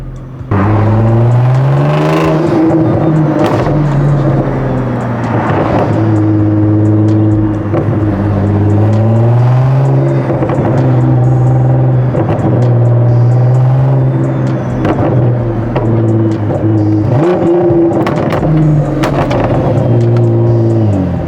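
Nissan GT-R R35 with a pops-and-bangs tune, its engine revving hard and loud close by, with rising and falling engine tones throughout and sharp crackling pops scattered through the revs.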